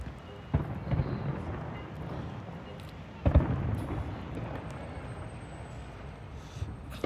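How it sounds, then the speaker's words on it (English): New Year's fireworks burst over San Francisco as faint, distant booms. Two duller thumps rise out of a low, steady rumble of background noise. "Everybody's watching the fireworks from here."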